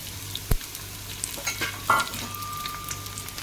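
Onion, garlic cloves, green chillies and ginger fry in a pan of oil for spicy black-masala mutton, a steady low sizzle with a few brief stirring clatters and a short scraping squeal, no talk.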